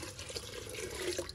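Unfiltered rainwater from a cistern is poured from a small pot into an activated carbon filter, giving a steady close trickle and splash of running water with a few brighter gurgles near the end.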